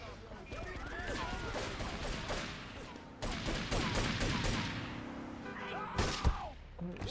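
Sniper rifle shots crack out in GTA III, with several sharp reports and heavy thumps over dense game noise, the loudest near the end, and someone talks over the action.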